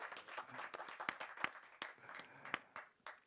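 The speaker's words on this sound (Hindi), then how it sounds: "एक बार बातचीत करने से पहले जोरदार तालियां फिर से होनी चाहिए." Audience applause at a film teaser launch on stage, a fairly faint spread of scattered claps with a few sharper hand strikes, fairly distant and with no talk.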